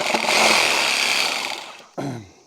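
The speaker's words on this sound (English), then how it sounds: "So a metal blade on a Sawzall." A Sawzall reciprocating saw fitted with a fine-tooth metal blade cuts through pipe, a loud harsh buzzing rasp lasting about two seconds, followed by one brief final burst.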